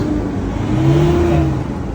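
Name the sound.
Mitsubishi Triton 4D56U diesel engine starting and revving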